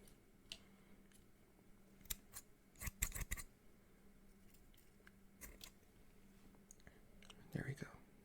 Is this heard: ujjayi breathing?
no